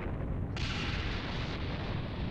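Game explosion in Dragon Ball Xenoverse 2: a steady, dense roaring rumble that swells louder partway through and holds as a continuous blast-like wash, with no voices.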